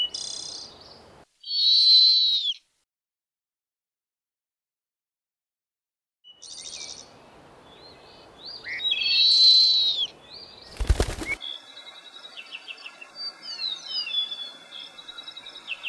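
An owl gives two short high calls separated by silence, followed by wing flaps and a sharp rustle that give way to a soft, busy night background.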